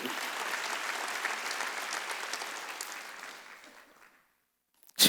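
A church congregation claps during a Wednesday worship service, a dense wash of applause that holds steady for about four seconds, then thins and dies away into near silence.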